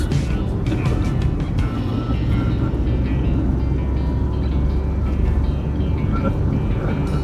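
A car driving on the road while overtaking another car, heard from inside as a steady loud rumble of engine and road noise with no break.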